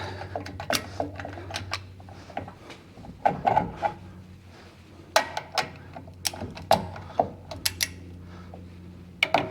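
A wrench clicks and ratchets while torquing driveshaft bolts on a 2024 Ford F150 4x4 5.0L during a carbon fiber driveshaft install. Sharp metallic clicks come in scattered bursts over a low steady background hum, with no talk.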